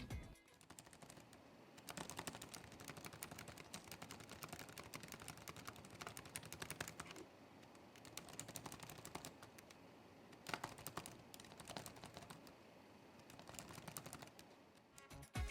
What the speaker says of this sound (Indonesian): keyboard ini masih menghasilkan suara ketukan yang terdengar jelas